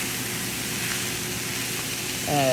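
Breakfast hash of onions, tomatoes, peppers and salsa sizzles gently in a pan, a soft steady hiss that ends with a voice starting to talk over it.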